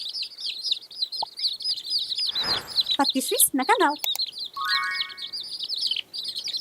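Little chicks cheeping in rapid, high, repeated peeps close by, with a few louder clucking notes from the hen. A voice speaks briefly partway through.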